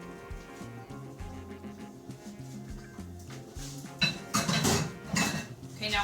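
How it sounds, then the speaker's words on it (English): Utensils scrape and clink against a bowl as brownie batter is stirred in circles, steady at first and then louder with sharper knocks near the end, over a background of music. "Just stir in a circle."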